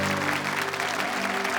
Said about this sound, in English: Can we do another applause for the artist?